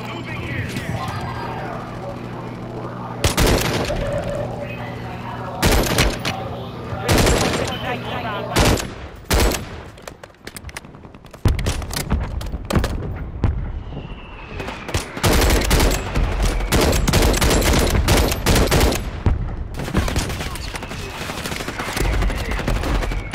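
Repeated bursts of gunfire from Call of Duty Modern Warfare 3, with loud close shots and rapid strings of automatic fire, scattered across the stretch. Players chat in the background.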